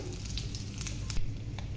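Tempering spices and dried red chilies sizzle in hot oil, a dense continuous crackle and spatter heard up close, with no talking.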